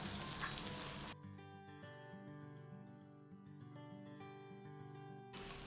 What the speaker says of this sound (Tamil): இப்போ பூண்டு நல்லா வதங்கிடுச்சு.